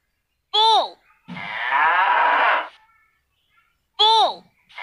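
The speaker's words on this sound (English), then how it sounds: "Bull." A bull gives one long, loud, close moo lasting well over a second. A short spoken word comes just before and just after it.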